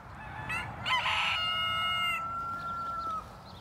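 A splash Brahma rooster crows close by, one drawn-out harmonic call that rises after a few short opening notes and holds for about two seconds before breaking off.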